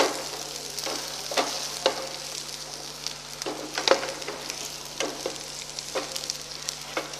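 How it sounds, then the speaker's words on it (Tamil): Onion, ginger and garlic sautéing in a hot pan give a soft, continuous sizzle, broken by intermittent scraping and clinking from stirring at a fairly low level, with no one talking. "நல்லா நறுக்கி வச்ச இஞ்சியும் பூண்டையும் ஆட் பண்ணி நல்லா வதக்குங்க"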